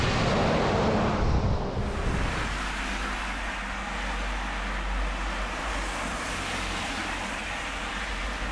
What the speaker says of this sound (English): it's really cold and it's really windy